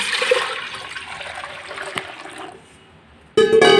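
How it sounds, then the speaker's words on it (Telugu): Water pours into an aluminium pressure cooker in a steady, fairly loud rushing stream that fades to quiet near the end, then a brief bright clatter follows. "ఇప్పుడైతే వాటర్ అయితే వేసేసుకున్నాం చూడండి ఇవి మునిగే వరకు వాటర్"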